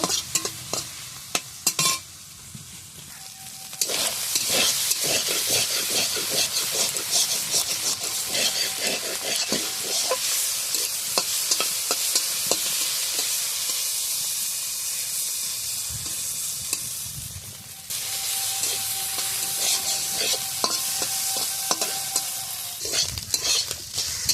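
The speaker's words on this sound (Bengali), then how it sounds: "দেব নুন হলুদ এবার একটু নাড়াচাড়া দিয়ে ভালো করে ভেজে নেব" Shrimp stir-frying with salt and turmeric in hot oil over a wood-fired stove, a steady loud sizzle broken by repeated scraping and clinking stirs throughout, with no talk.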